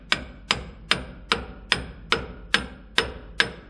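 A hammer taps lightly and evenly on a Ford/Dana axle pinion seal to seat it, nine crisp close strikes at a steady rhythm of roughly two per second.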